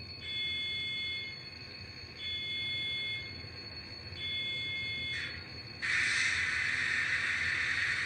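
An electronic alarm bell from an ESU V5 sound decoder in an SD70ACe model locomotive sounds in three long, evenly spaced bursts, followed by a sudden loud hiss of releasing air as the air start begins.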